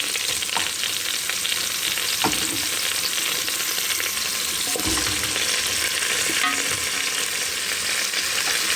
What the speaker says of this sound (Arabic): شوفوا هنا بعد ما حمر رايحه ندير البصله